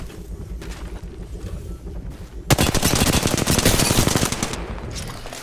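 Apex Legends video game gunfire: rapid automatic bursts crackling loudly in a dense rattling volley for a few seconds, preceded by quieter in-game movement and ambience, with no talking.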